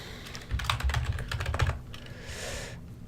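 Rapid, uneven keystrokes on a computer keyboard as a password is typed, a close burst of clicks that thins out toward the end with a soft hiss remaining.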